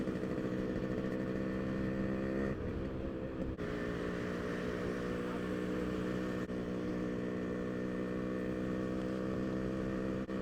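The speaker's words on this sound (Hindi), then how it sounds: "ये दो बाइकर्स अभी जब पास हुए तो उसने बोला वो देख RX 100" Yamaha RX 100 two-stroke motorcycles pass by on a road, a steady loud buzzing engine drone with harmonic tones that continues throughout, a brief dip mid-way as traffic shifts, and no talking.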